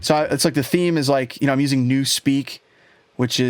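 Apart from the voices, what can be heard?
None of the usual background noises is heard.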